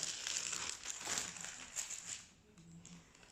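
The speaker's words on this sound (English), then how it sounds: "Beautiful wrapping paper. I have to rip it because it's so pretty." Decorative gift wrapping paper being ripped open and crinkled by hand while unboxing a personalised vegan leather crossbody bag, a close, steady papery rustle and crackle that trails off into quieter rustling near the end.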